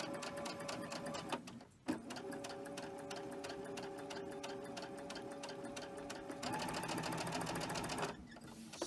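A domestic sewing machine stitches quilt pieces together in a steady, continuous mechanical whir, pausing briefly once before running on, close and alone with no talking.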